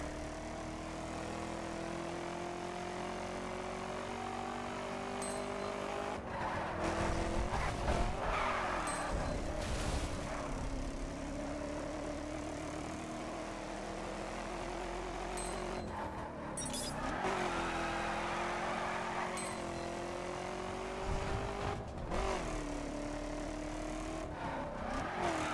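A car in The Crew racing game runs for a long stretch with a steady droning engine note that rises and falls as it revs, broken by several skids and tire squeals.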